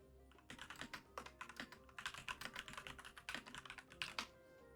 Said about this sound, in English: like that you can hear my typing